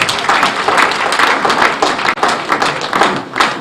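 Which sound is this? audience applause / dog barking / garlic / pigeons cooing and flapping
audience applause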